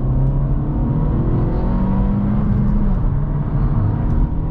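An Acura Integra A-Spec running a KTuner racing tune accelerates hard, its loud engine drone rising steadily with layered harmonics and a continuous close roar lasting throughout, with no talk.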